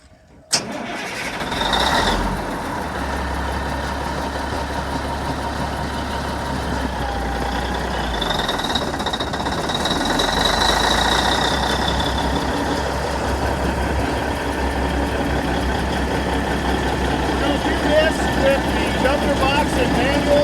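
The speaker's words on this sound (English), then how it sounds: "Next step will be to start the machine and see if we can get the tub to run." A Mighty Giant tub grinder's engine cranks over after a sharp click, catches, and settles into a loud, steady running rumble that builds slightly, with a person talking over it.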